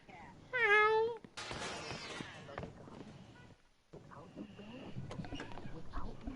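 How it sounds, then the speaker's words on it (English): A single clear meow from a cat in the video game Mafia II: Definitive Edition rises near the start, then gives way to people talking and busy game noise. "I thought that was a rat, but no, that's a cat."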